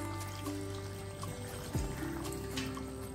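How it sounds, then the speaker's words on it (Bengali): Water pours into chicken curry cooking in a pot, a short splashing trickle against a background hum with a faint falling whistle partway through, fairly quiet and close, without speech. "এবার জল দিয়ে দেব"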